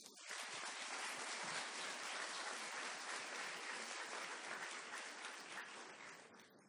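An audience at an academic event on intellectual property and innovation gives a round of applause, a dense steady wash of many hands clapping that holds evenly and fades slightly toward the end, heard alone at a moderate distance.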